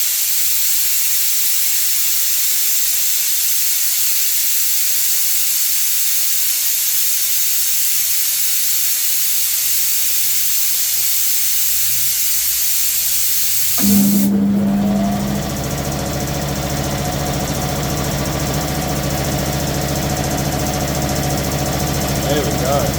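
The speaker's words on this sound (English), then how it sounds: "Runs beautifully, doesn't it? Very happy with that compressor head and the motor and everything." A restored air compressor with a refurbished head and motor: a quiet hiss of escaping air, then the motor abruptly kicks in partway through and settles into a loud, steady mechanical running drone at close range.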